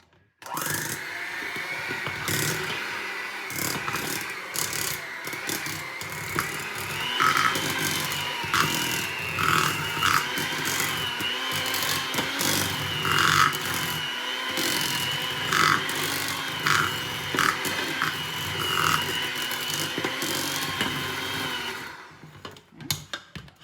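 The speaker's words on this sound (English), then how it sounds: "So I figured it would be better to use my hand mixer." An electric hand mixer creams lemon icing for a lemon Bundt cake with a steady, close, buzzing whir that wavers as the beaters move through the bowl, running for about twenty seconds before cutting off.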